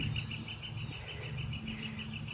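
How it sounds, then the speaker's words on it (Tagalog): Faint bird song outdoors on a family jog, a thin repeating chirp pulsing over a low background hum. "Sumasabay yung ibon"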